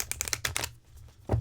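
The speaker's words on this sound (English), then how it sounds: "I'm going to do one more shuffle like that," A deck of Divine Feminine oracle cards is shuffled up close in a quick run of crisp riffling flicks, followed by a brief pause and then a soft thump as the cards settle.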